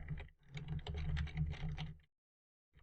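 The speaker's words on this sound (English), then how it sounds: "So if I just type some random hexadecimal numbers and letters" Quick run of typing on a computer keyboard, a steady cluster of close clicks lasting about two seconds over a low hum, then silence.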